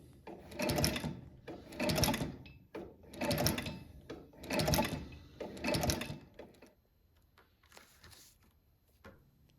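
A sewing machine stitches worn uppers during a Red Wing 1907 boot repair, running in five loud bursts of about a second each with short pauses between, then a fainter final run.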